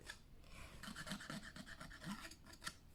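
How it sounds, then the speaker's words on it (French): Scissors blade scraping along the edges of a paper scrapbooking card, a quiet continuous rasping rub with short repeated strokes, close and soft, without talk. "On va prendre le ciseau et on va gratter, bien gratter"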